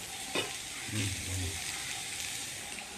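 Bitter gourd frying in a pan with chilli powder, salt and turmeric gives off a steady, close sizzle, with a brief scrape of stirring near the start and a low murmur underneath.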